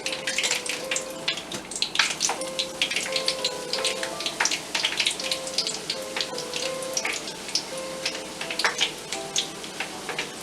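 Bhatura, a puffy deep-fried Indian bread served with chole, frying in hot oil: a steady crackling sizzle with dense spitting pops, even and continuous throughout, close and moderately loud, with no talk over it.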